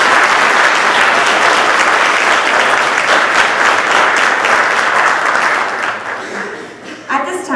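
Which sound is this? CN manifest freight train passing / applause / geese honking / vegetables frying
applause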